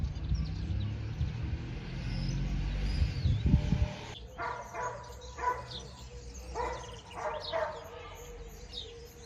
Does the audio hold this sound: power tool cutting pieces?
no